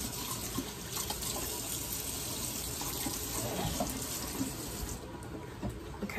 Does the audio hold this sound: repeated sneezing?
no